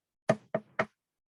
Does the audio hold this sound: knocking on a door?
yes